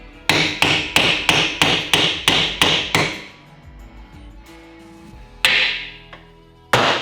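A hammer clangs on metal in a quick, even run of eight ringing blows, then pauses before two more sharp strikes, while installing a limited slip differential in a Holden HQ.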